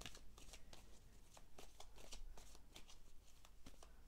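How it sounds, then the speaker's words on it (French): Tarot cards handled and shuffled close by, a quiet run of crisp riffling flicks and snaps repeating in quick bursts, with no talking. "Allez, on va sortir l'autre carte"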